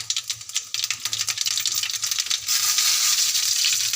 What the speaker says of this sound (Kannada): ಇವಾಗ ನಾನು ಸಾಸಿವೆಯನ್ನು ಹಾಕ್ತಾಯಿದ್ದೀನಿ. ಚಟಪಟ ಅಂದಮೇಲೆ